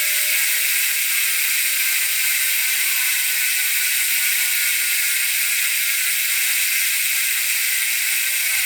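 Rapid, continuous ratchet clicking from the freehub of a 2018 Transition Sentinel mountain bike, a bright buzzing whir that stays steady and loud throughout.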